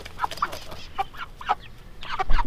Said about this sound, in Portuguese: Esse é galo, esse branco?